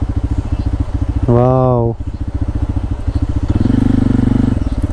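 A motorcycle on a rainy monsoon off-road ride chugs steadily with a low, rhythmic engine putter as it crosses a small bridge. A man lets out a loud exclamation partway through.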